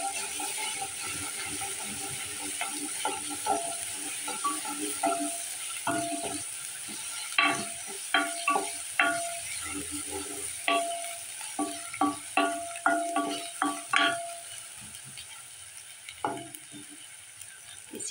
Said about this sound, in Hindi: प्याज की इस कंडीशन में आप अदरक लहसुन ऐड कर दें।